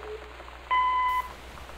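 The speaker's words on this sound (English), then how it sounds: "It seriously will keep beeping until I put it back." An electronic device in the video game Gone Home gives a single steady, clear beep of about half a second, set against faint rain-like ambience.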